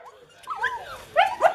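Dogs whimper and yip in a snowbound blizzard in Connecticut, high whining cries rising and falling close by, ending in two sharper yelps.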